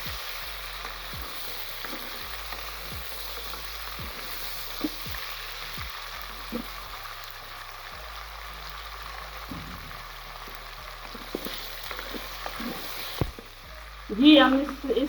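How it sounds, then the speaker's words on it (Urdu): Chicken frying with garlic and onion in a pan, a soft continuous sizzle with intermittent stirring taps and knocks, fairly quiet, ending in a louder clatter near the close. "ہم اس میں بھی اپنا چکن ڈالتے ہیں، تھوڑا سا یہ تھوم اور پیاز کے ساتھ اس کو فرائی کر لیں گے"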